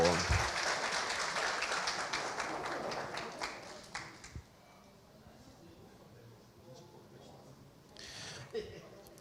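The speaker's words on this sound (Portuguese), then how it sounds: "Uma salva de palmas para o nosso amigo Miguel." Applause at a Rio de Janeiro sanitation engineering conference session, a room of hands clapping for an introduced guest that fades out after about four seconds, followed by quiet room tone and a brief stir near the end.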